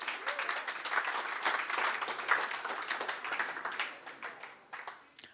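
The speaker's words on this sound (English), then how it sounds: "Graham King, a round of applause for you." Warm, sustained audience applause at a swimming association's awards evening for an award winner, steady dense clapping from a nearby crowd that holds for several seconds and then tapers off.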